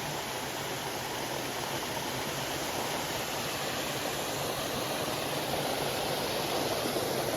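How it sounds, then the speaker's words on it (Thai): A waterfall pours down in a steady, continuous rush of water that stays even and fairly loud throughout, with no talking. "นู่นเลยนะน้ำตกเนี่ยไหลลงมาสวยมากเลยนะ"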